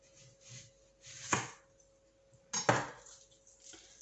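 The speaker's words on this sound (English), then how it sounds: "I keep the flat side onto the chopping board, and then I take the knife and I cut through the root" A few separate knife cuts through an onion on a chopping board, two sharp thuds standing out amid soft handling noises, close and quiet with no talk.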